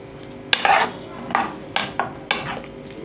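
A spoon scrapes and clinks through meat in tomato sauce and paste in a pot, five or six separate stirring strokes with metallic scrapes and thick wet shuffling, close and fairly loud, no talking.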